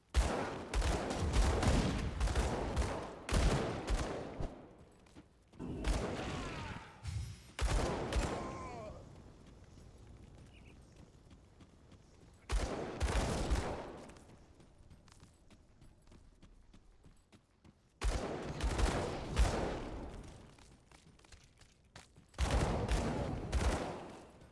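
Dual-wielded pistols fire in the video game Grim Dawn, with rapid clusters of sharp shots in several loud bursts separated by quieter gaps.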